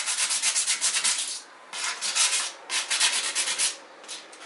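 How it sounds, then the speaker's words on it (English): Fine 220 grit sandpaper rubs rhythmically against a Corvair wire wheel hubcap in quick, loud back-and-forth strokes, grouped into several bursts with brief pauses between them. "The 220 grit sandpaper. That's how you clean them."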